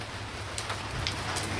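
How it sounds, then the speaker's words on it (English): Light drizzle falling at night at a tent setup, a soft steady patter of raindrops on surfaces with a few sharper drips, no voices. "Might do it in the wet during the day if it's just drizzling like this, but not at night."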